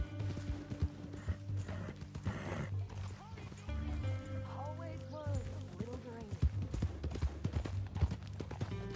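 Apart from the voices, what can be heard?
horse hooves clip-clop, video game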